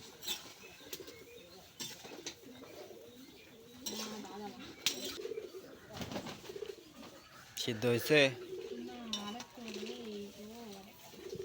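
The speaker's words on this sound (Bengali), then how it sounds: "আমাদের কবুতরগুলা মানে ঠান্ডা করতেছে, প্রচুর রোদ তাপার জন্য উপরে আছে বসে।" Pigeons resting up high in hot sun coo in soft repeated phrases, mixed with kitchen clinks of pots and utensils while a person talks nearby.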